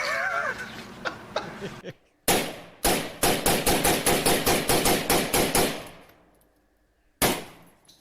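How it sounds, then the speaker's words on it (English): A .44 Magnum revolver fired single action outdoors, a burst of about a dozen sharp, loud shots in quick rhythm followed by one more blast after a pause, with brief talk at the start. "if you want on this 44 Magnum, you can shoot it single action"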